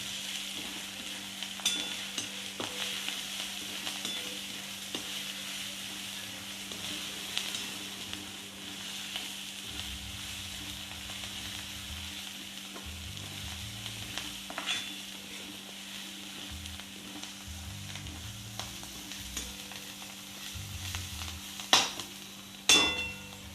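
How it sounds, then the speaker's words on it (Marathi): Fenugreek greens and chopped coriander stirred and sautéed in a pan, with a soft continuous sizzle, scattered light scrapes and clinks of a spoon, and a couple of louder knocks near the end. "आता हे छान असं व्यवस्थित परतून घ्यायचं आहे"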